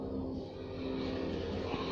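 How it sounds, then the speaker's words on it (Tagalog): Loud motorcycles rev and roar outside, a continuous close engine drone that swells briefly and holds steady, with no talk over it. "labasan na naman ang mga maiingay na motor"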